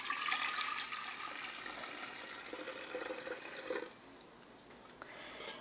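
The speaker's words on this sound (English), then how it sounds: "you'll pour your cooled tea into the fermenting jar" Cooled homemade tea poured into a fermenting jar, a steady splashing pour of liquid that fills the first few seconds, then drops off to light trickles and drips.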